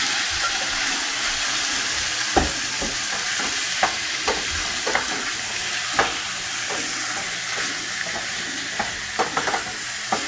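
Chicken breast pieces sizzle in olive oil in a pan over medium to medium-high heat. The frying hiss is steady and bright, and a utensil stirs and scrapes the pan now and then.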